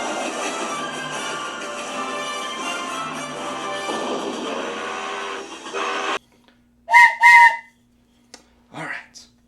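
Train whistle sound effect: after background music cuts out, a short, bright, tonal whistle blast sounds alone, followed by a brief fainter burst.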